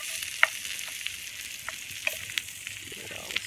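Vegetables for goulash sizzle steadily in a pot over a campfire, a constant close frying hiss broken by a few sharp clicks and scrapes of a spoon stirring through them, with no talking.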